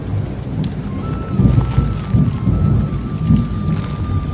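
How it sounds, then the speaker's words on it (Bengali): Heavy rain pours outside a government staff quarters during a storm, loud and continuous, while deep thunder rumbles roll underneath in swelling waves, with no talk. "বাইরে মেঘ ডাকা সাউন্ড শুনতে পাচ্ছ"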